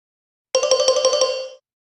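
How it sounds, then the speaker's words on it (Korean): A mobile phone ringtone plays once, a bright chiming melody of quick repeated tones lasting about a second, loud and close, with silence around it. "휴대폰이 울렸다."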